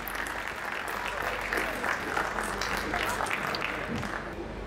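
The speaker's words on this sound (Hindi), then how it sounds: "स्वागत में आपने घनघोर तालियां बजाई हैं" Heavy, sustained applause rolls through a Pune mushaira poetry gathering as the crowd welcomes poet Khushboo Sharma to the stage, a thick wash of clapping lasting the whole clip.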